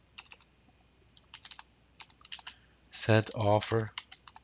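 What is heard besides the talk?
typing notes on a computer keyboard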